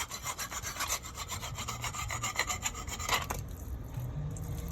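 A hand saw cuts through a pipe while a hose bibb faucet is being replaced, giving a steady, close run of rapid rasping back-and-forth strokes that stops abruptly near the end, with no talking.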